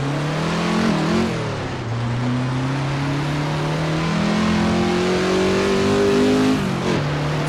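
A Ferrari 330 P4 or Ford GT40 racing car engine in Assetto Corsa at Laguna Seca drones steadily and shifts pitch as it revs through gears, loud and close, with no talking.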